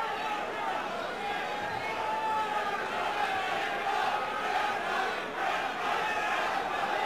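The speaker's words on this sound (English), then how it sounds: "Crowd starting to chant, Shamrock, Shamrock." A large arena crowd at the 1994 UFC 3 event roars and chants a fighter's name, a dense, continuous wall of voices with rhythmic swells that stays loud and busy from start to finish.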